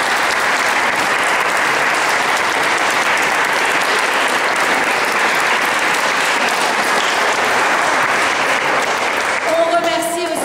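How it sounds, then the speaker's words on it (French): Sustained applause from an audience at a theatrical guided tour in Aubigny-sur-Nère, dense steady clapping filling the whole stretch, with a brief tonal sound appearing near the end. "On peut les applaudir bien fort."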